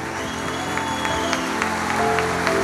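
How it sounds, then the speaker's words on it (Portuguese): Church congregation applauding at a Sunday Father's Day service, steady moderate clapping layered over sustained music tones, with no talking. "Pode aplaudir mais forte, irmão"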